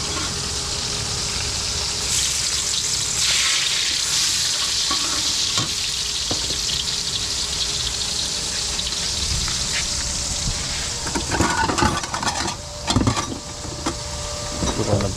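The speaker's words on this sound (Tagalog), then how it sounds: "Gigisa tayo ng palaya at paboritong galunggong." Galunggong fish and sautéed aromatics fry in a hot pan for breakfast, a loud steady sizzle with scattered sharper crackles and spatters growing busier toward the end, with no talk.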